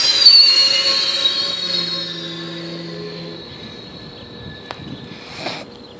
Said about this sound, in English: we got another train! Triple train meet!